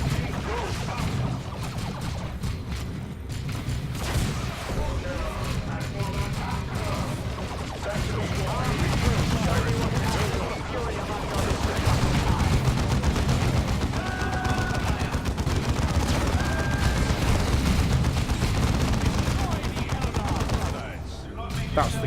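Sustained heavy bolter and small-arms gunfire from a Dawn of War 2 battle, dense and continuous bursts over about twenty seconds with crashes mixed in, while someone talks over the shooting.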